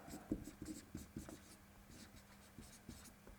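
Marker scratches and taps on a board in quick strokes, faint and close, with a steady low room hum beneath.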